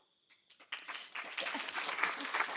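Guests at a wedding reception breaking into applause, starting with a few scattered claps and quickly swelling into loud, sustained clapping.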